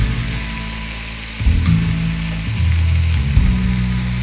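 Mint and coriander leaves crackle and sizzle in hot oil for a country-style chicken curry, a loud steady frying hiss with a low hum beneath and a few stirring clatters midway.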